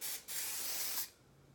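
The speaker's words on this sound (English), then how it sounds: "Like, I sprayed and sprayed and sprayed, and there's still even some spray power left." Herbal Essences Bio Renew dry shampoo sprayed from an aerosol can: a short hiss, a brief break, then a longer steady spray of about three-quarters of a second, close and fairly loud, then quiet.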